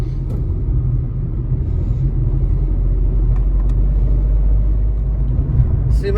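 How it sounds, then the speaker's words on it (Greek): A 2019 Dacia Sandero drives along with a steady, loud low engine and road rumble from inside the cabin, with no clear change in pace. "Σήμερα οδηγάμε ένα Dacia Sandero μοντέλο του 19."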